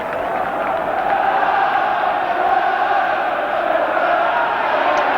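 A football crowd at a 1980 FA Cup sixth-round tie between West Ham and Aston Villa fills the air with a steady, distant roar of massed voices and chanting, a broad wash of noise that never lets up.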